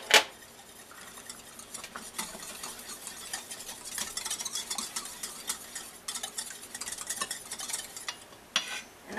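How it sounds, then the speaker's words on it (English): Egg yolk stirred into a cheese soufflé base with a utensil, steady scraping and clinking against the bowl throughout, close and fairly busy, with a sharper knock near the start and end. "Next, I'm going to mix in my egg yolk."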